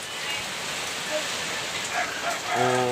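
Rain falls steadily as an even wash of hiss, with a voice briefly heard near the end.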